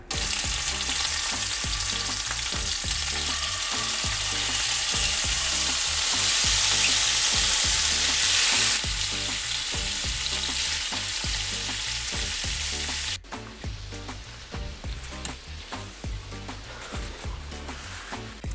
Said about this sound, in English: I'm going to go ahead and put that in the cast iron skillet and start getting that heated up.